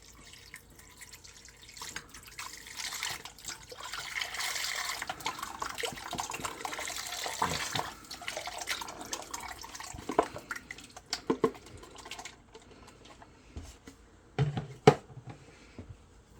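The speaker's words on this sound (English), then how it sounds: "We're going to go in with a container of beef broth." Beef broth pours from a container into a crock-pot for cabbage soup, a steady liquid splashing and gurgling stream that builds then tapers into drips and clatter, close and without talk.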